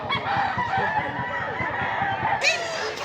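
Gamecocks crow and cluck at a busy rooster market, a dense chorus of fowl calls close by, with a sharp loud crow rising near the end.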